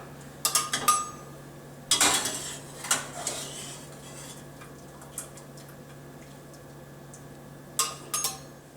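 Boiled tomatillos and onion tipped from a pot into a blender, with sharp clinks and clatters of dishes and utensils in scattered bursts, close and clear over a quiet hum.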